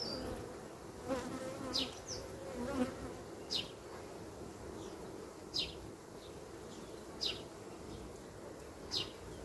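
Calm honeybees humming inside a hive, a soft steady drone with occasional brief chirps and buzzes rising above it, quiet and close, with no talking.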